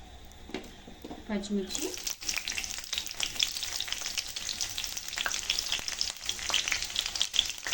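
Green chillies frying in hot oil for egg fried rice, a steady loud crackling sizzle that bursts in about two seconds in and continues throughout, after a brief voice-like sound at the start.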